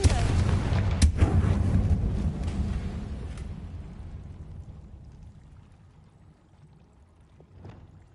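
A Confringo explosion spell in a Harry Potter video game: a sharp blast near the start, then a long rumbling decay, with a faint second pop near the end.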